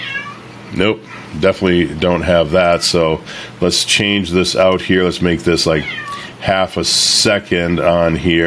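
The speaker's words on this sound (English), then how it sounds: "if you hear my cat crying in the background" A pet cat meows and cries repeatedly in the background of a home office, its drawn-out calls coming through beneath a person talking steadily close to the microphone.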